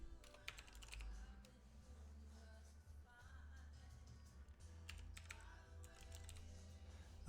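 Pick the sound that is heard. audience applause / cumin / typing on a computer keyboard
typing on a computer keyboard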